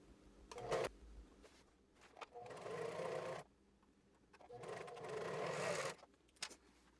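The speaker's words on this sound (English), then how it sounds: "Then sew the elastics in the side seams, on the wrong side." A sewing machine stitches elastic into the wrong side of T-shirt side seams, running in two sustained whirring bursts separated by quiet pauses and a few short clicks.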